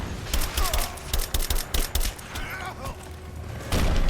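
Rapid bursts of video game gunfire from Rise of the Tomb Raider, loud and close, crackling in clustered volleys over a dense, busy combat background.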